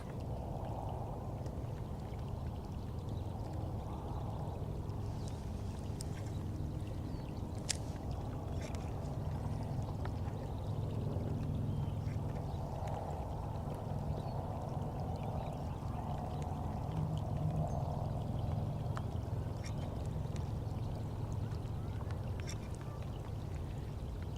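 Rain falls steadily around someone fishing from a small boat, a continuous soft wash of patter with faint water movement. It goes on for the whole stretch without voices.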